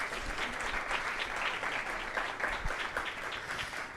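An audience at a deep learning symposium in Barcelona applauds a speaker, steady dense clapping filling the room, fairly distant and moderately quiet.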